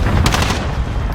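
Gunfire in a team deathmatch shooter video game, a loud burst of rapid shots crackling in the first half second and continuing as a dense rattle of battle noise.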